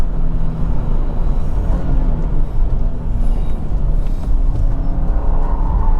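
A 2025 Subaru WRX tS accelerates hard on winter tires, its engine and road rumble filling the cabin as a loud, steady roar with no talk.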